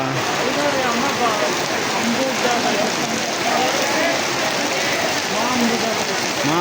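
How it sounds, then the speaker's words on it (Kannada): Heavy rain pours down in a busy street market, a dense, steady roar of drops hitting surfaces, loud and close, with people talking faintly underneath. "ಮಳೆ ಜೋರ ಆಯ್ತಲ್ಲ."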